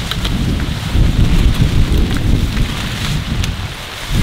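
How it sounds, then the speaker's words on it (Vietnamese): Heavy rain pours down outdoors beside rice fields, a steady dense hiss with scattered louder drop impacts and a low rumbling undertone throughout, no voices. "Đang mưa đấy,"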